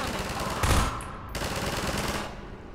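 Gunfire in the shooter game Half-Life 2 Episode 1, a dense, loud burst of rapid automatic shots with a heavy thump near the start, filling nearly three seconds up close with no gaps.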